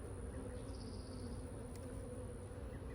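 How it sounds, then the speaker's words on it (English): Honeybees at a recently jostled backyard hive, buzzing steadily as a dense, continuous drone that sounds close and agitated, with no talking. "When you jostle your hive, they get excited."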